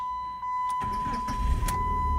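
A 2003 Chrysler PT Cruiser 2.4 turbo, just repaired for a fuel pump/ASD fuse fault, cranks and fires up, settling into a steady idle with a low rumble beneath a constant electronic tone and a couple of brief chirps.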